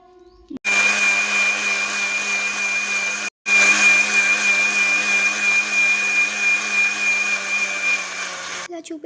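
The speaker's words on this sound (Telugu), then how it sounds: "ఇంక ఇవన్నీ మిక్సీలో వేసుకొని కొంచెం వాటర్, ఎక్కువ కాదు, కొంచెం వాటర్ అది నలగడానికి మాత్రమే అలా వేసుకొని గ్రైండ్ చేసేసుకోండి" A kitchen mixer grinder whirs loudly and steadily as it grinds amla and ginger with a little water. The motor runs in two long stretches with a short pause between them.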